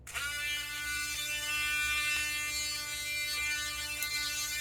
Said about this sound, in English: This, the little Dremel drum sander. Let's give that a try.